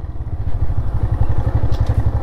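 A motorcycle engine idles with a loud, close, pulsing throb and some clatter as the bike is parked outdoors at an iftar food distribution, with no talking.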